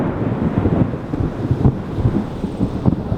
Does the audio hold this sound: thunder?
yes